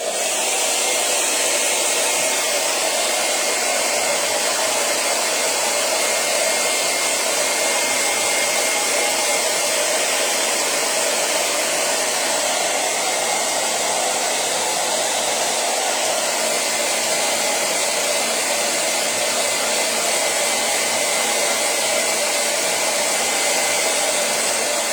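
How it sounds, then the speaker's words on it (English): Hair dryer blowing steadily to dry dot art paint on a Santa and reindeer ornament, an unbroken airy whoosh with a constant motor whine throughout. "So hair dryer again,"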